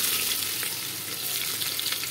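Onions sizzle and crackle steadily in hot oil with mustard seeds and cumin for tempering, close by, a continuous bright frying hiss with no voices.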